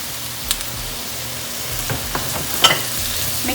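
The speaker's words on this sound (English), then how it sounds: "Alright, as you can see, onion and tomato is getting cooked." Onion, tomato, ginger and garlic sizzle and fry in a pan for a salmon masala, with steady crackling and a few scraping stirs of a spoon, close and moderately loud, no voices.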